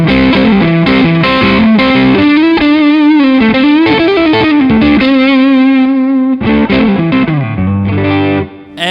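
Electric guitar played through a Tech 21 RK5 Fly Rig with the boost engaged, loud and driven with distortion, fast melodic lead lines and sustained bends, close and upfront with no talking.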